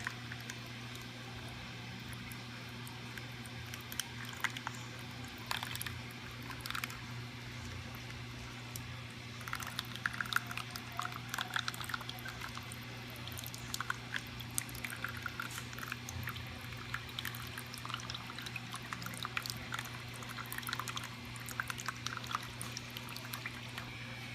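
Water pours steadily from a garden hose into a container, a continuous splashing trickle with no talking.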